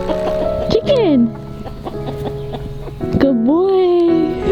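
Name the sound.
chicken clucking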